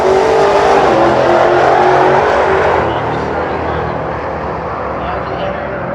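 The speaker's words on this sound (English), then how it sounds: "Well, here's a pair of Challenger Demon 170s." A pair of Dodge Challenger Demon 170 muscle cars roar down a drag strip, engines blaring loud at first, then the sound drops to a lower, steadier rumble as they pull away.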